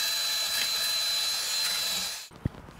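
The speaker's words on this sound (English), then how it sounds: "I like using a drill with a wire brush." Cordless drill spinning a wire brush to clean the wheel bearing bore on the rear hub of a 2011-2020 Toyota Sienna AWD, a steady, loud high-pitched whine and scrubbing lasting over two seconds, then stopping with a light clunk.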